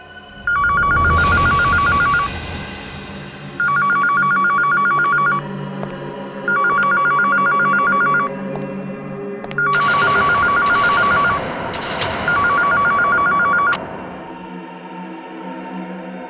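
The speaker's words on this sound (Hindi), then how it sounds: "वो फोन उठाओ," A telephone rings loudly in repeated bursts, five rings with short pauses between, clear and close with no talking.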